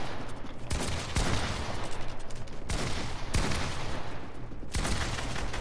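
Video game gunfire rattles continuously in heavy overlapping bursts, loud and close with sharp louder shots standing out, and no voices over it.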